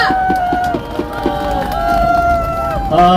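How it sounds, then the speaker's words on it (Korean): A crowd at an outdoor street rally near Gangnam Station applauds and cheers, with dense clapping and shouts over a sustained tone from a horn or whistle, loud and close throughout. "큰 박수와 환호 부탁드립니다"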